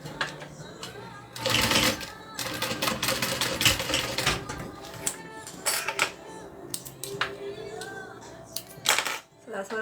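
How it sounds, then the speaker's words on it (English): A sewing machine top-stitches along vinyl for a backpack, running in rapid mechanical bursts with pauses between them, close and clear, while someone talks over parts of it. "So I'm going to top stitch right along the bottom piece of this vinyl"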